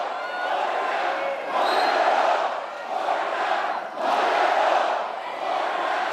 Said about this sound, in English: I'm sure this fervent Hungarian crowd is expecting to cheer their team to the victory